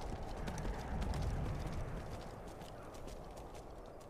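A horse in Skyrim trots downhill toward Helgen, its hooves thudding in a quick, fairly loud clip-clop rhythm over a rumbling game backdrop, the hoofbeats easing slightly toward the end.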